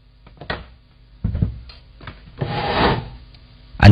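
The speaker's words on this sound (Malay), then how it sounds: "bunyi seret kerusi itu datang daripada dalam rumah kakak sendiri, Casey." A wooden chair scrapes and drags across a floor inside a house at night in several rough, grinding bursts of varying length, close and fairly loud, with no talking.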